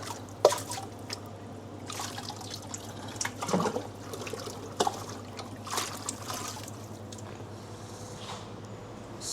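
A jug is dunked into hot water during homebrewing of an Old Peculier clone, giving soft sloshes, drips and trickles over a steady low hum.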